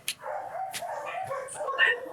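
Dogs at an animal shelter bark and yip in quick, overlapping bursts close by, with a person talking underneath.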